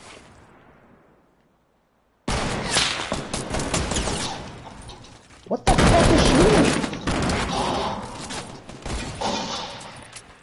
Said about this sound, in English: I'm getting shot though.